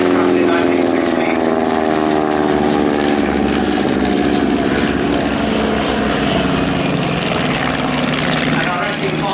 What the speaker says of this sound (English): The Sopwith and the Fokker triplanes pulling round